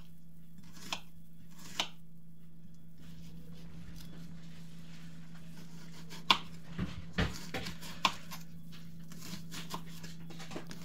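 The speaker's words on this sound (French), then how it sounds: "on vient découper notre oignon rouge en petits morceaux" A red onion is cut into small pieces with a knife on a board, making sparse, irregular taps and clicks over a low steady hum, with no voices.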